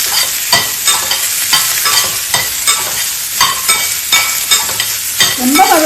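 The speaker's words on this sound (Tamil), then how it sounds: "அதிலே வெங்காயம், பச்சை மிளகு, உருளைக்கிழங்கு, தக்காளி எல்லாம் போட்டு வதக்கிக்கலாம்" Onion, green chilli, potato and tomato sauté in a hot pan under a constant sizzle, with regular scraping stirring strokes about once a second, loud and close.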